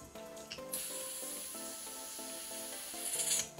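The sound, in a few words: refilling a torch with butane gas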